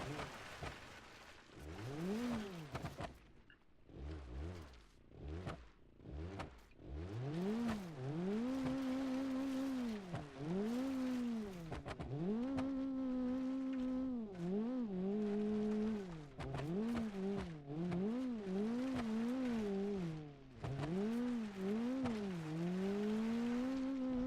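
A damaged car in BeamNG.drive, running with a backward-mounted wheel, drives up toward a mud pit, its engine revving loudly and repeatedly rising and falling in pitch, with brief drops between pulls and a faint rough hiss beneath.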